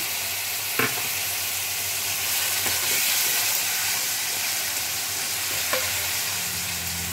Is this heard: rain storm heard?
no